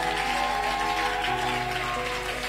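Church congregation at a Tuesday covenant service clapping and cheering together, a dense, continuous wash of applause mixed with voices and sustained tones, loud and close throughout.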